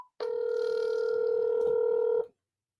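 A single telephone ring tone sounds for about two seconds as a steady electronic buzz, then cuts off into silence.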